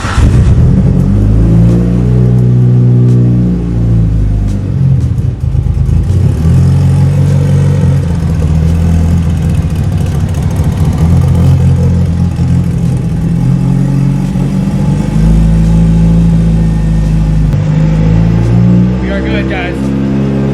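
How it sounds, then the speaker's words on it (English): A Mitsubishi Evo 8 engine rumbles loudly and close, shifting pitch as it starts, revs up and settles back into an idle, with a voice faintly underneath. "Go ahead and start the car and make sure we don't have any fuel leak."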